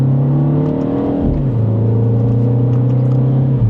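A 2026 Mini JCW two-door with a dual-clutch gearbox pulls hard in second gear, its engine note rising steadily, dipping briefly at a quick shift, then climbing again loud and close from inside the cabin.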